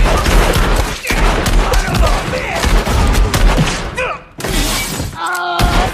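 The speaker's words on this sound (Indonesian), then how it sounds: "Aksi saling tembak terjadi." A loud, chaotic gunfire shootout in a film scene set in the American South, with rapid overlapping shots, shattering impacts and heavy thuds, a brief pause, then more bursts of shots.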